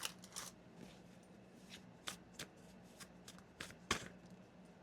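A deck of tarot cards is shuffled close by, soft riffling slaps and flicks arriving in irregular quick bursts against a quiet room.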